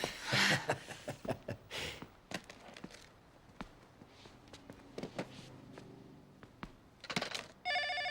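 A telephone rings and goes unanswered, bursts of ringing standing out among scattered knocks and clatter in a quiet room, with a faint electronic ringtone sounding at the very end.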